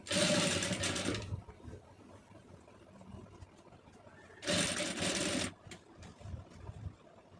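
Sewing machine stitching fabric piping, two short bursts of fast, buzzing needle chatter about a second each, separated by a quieter pause with faint handling noise, close by.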